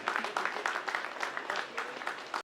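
Dense clapping from an audience welcoming a music director at an evening music gathering, steady and fairly close, with brief louder bursts throughout.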